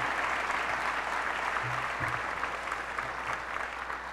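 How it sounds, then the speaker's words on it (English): Audience applause honoring people at a Warren Alpert Medical School ceremony, a steady broadband clapping wash from a crowd that holds evenly for several seconds with no talk over it. "How about applause for those people?"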